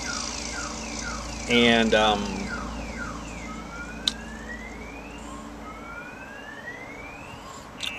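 Car alarms at a busy GenCon convention hall sound off in looping electronic sweeps and rising whoops, loud at first and then repeating in long upward glides, with a brief spoken word.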